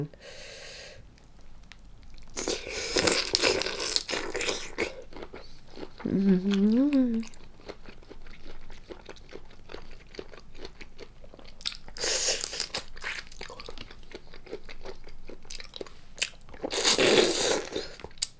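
Spicy Thai seafood salad with shrimp, blue crab and salmon being eaten up close, with loud crunchy bites and wet chewing in bursts, a short hummed vocal sound in the middle, and quiet breathing between mouthfuls.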